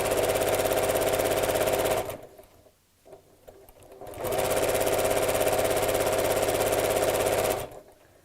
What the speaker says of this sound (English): I'm going to carry on sewing the bias binding in half.